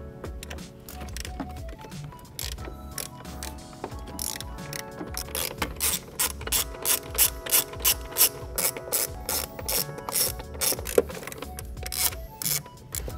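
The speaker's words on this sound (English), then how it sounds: "So we need to remove three 10 millimeter bolts." A hand ratchet clicks rapidly while loosening 10 millimeter bolts from the battery tray of a VW/Audi MK7 GTI, Golf R, A3 or S3, close bursts of sharp pawl ticks building into a steady back-and-forth rhythm.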